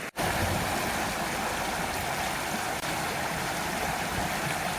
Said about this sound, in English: this creek is like flowing stronger quicker, because it's already getting a lot of its snow melt